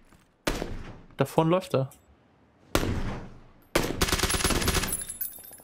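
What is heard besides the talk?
gunfire in the video game PlayerUnknown's Battlegrounds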